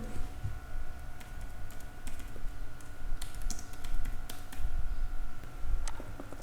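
Keys clatter on a computer keyboard in quick, uneven bursts as data is entered into a spreadsheet, close and moderately quiet with a faint steady hum behind.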